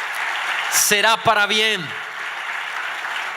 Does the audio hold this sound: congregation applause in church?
yes